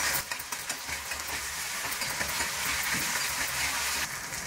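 Onion with ginger-garlic paste frying in a pan for egg bhurji, a steady close sizzle and crackle running the whole time with faint stirring clicks, no talk.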